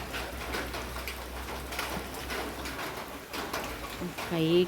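Flattened dough for Kasaragod niyipatthal frying in hot oil, a continuous sizzle and crackle with scattered bursts that swell louder toward the end, close by.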